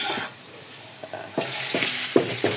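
Ginger sautés in a pan for dinuguan, a sizzling hiss that swells after a quiet start, punctuated by several sharp spatula scrapes and clanks against the pan.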